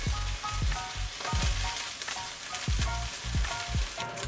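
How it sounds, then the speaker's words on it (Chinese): Preserved radish and dried shrimp stir-fry in hot oil in a wok, a loud continuous sizzle broken by repeated scraping and tossing strokes of the spatula, with no talk. "燒熱隻鍋，放入啲油，將菜脯同埋蝦米爆香"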